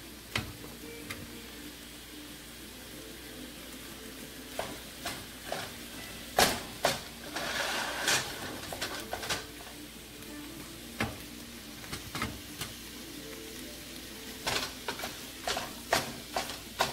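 Crumbled sausage sizzles and crackles steadily in a hot pan, with scattered sharp pops and the scrape of a utensil breaking up the meat, close by and without talk.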